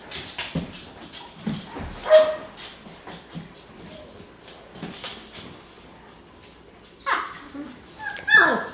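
German Shepherd puppies whimper and let out small yips and barks in scattered bursts, with high squeaky cries between, close by and moderately loud.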